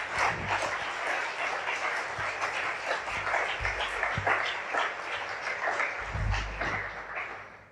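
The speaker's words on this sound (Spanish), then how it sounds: "Dele una ofrenda de palmas a Dios." Spanish-speaking church congregation clapping as an offering during a sermon, sustained crowd applause with individual claps audible, lasting several seconds at moderate level with occasional low thumps.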